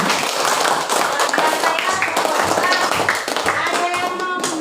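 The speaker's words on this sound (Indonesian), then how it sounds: "Aplaus dulu untuk kelompok 2" Classroom applause for a student group, a burst of many hands clapping close by, steady and dense for several seconds with a few voices mixed in.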